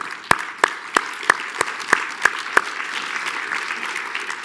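Audience at a keynote conversation on technology and innovation applauds Jen Palka: a run of about eight sharp, evenly spaced claps rising above a soft, steady patter of clapping that carries on after them.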